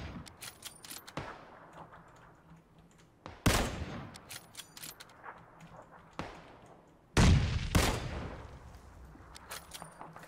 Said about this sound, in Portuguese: eu dei muito tiro nos caras lá, velho.